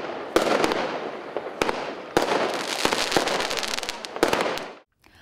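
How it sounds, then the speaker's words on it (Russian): A fireworks salute after a children's New Year concert, loud crackling bursts and sharp bangs popping in quick irregular clusters, close by, before cutting off abruptly. "а после их ожидал еще один сюрприз – салют"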